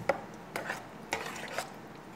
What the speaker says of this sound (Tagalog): Mix, mix, mix.